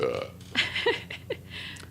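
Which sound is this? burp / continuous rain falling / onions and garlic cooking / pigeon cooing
burp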